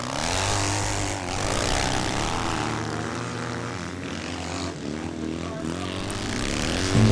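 A 650 Tribsa scramble motorcycle, a Triumph engine in a BSA frame, races at a classic nostalgia scramble at Kendal, its loud engine droning continuously as it passes close by, with a commentator talking over it.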